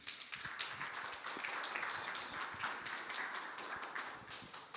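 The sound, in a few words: audience applause for panelists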